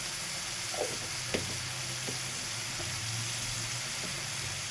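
Green chillies and minced chicken keema sizzle in hot oil in a pan, a steady close frying hiss with a few soft stirring clinks and scrapes, no talking.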